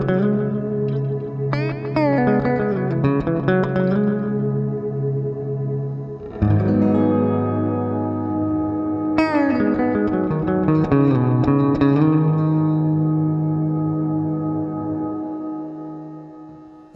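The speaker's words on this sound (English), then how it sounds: "So if I press down the reverb switch, it will sustain my reverb tail, and I can play on top of that reverb tail with the delay effect still functioning." Electric guitar through a Source Audio Collider pedal, a frozen reverb tail droning steadily while new notes ring over it with repeating delay echoes, loud and continuous, swelling and fading across several phrases without any talking.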